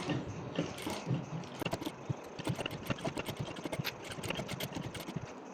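A sewing machine stitches along the edge of canvas on a neckline, giving quiet, irregular rattling and clicking bursts of mechanism as the fabric is turned bit by bit.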